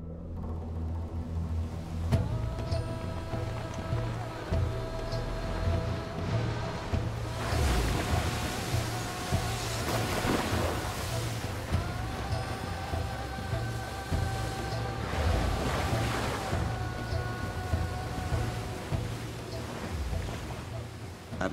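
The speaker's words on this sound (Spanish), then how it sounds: "De pronto se levantó una tremenda tormenta." A storm blows over Lake Nasser at night, with gusting wind and crashing waves around a boat, a constant rushing roar punctuated by heavier surges, under a low engine hum and some speech.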